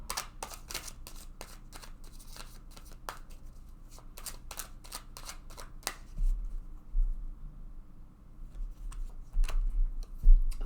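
Tarot cards are handled and drawn from a deck, with a rapid run of crisp flicking snaps at first, then quieter shuffling rustles and occasional soft thumps.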